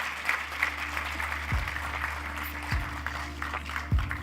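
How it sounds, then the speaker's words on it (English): Audience applauding panelists at the close of a panel session at an artificial intelligence summit, a steady, moderately loud wash of clapping across the whole stretch with a few low thumps. "Please give my panelists a round of applause."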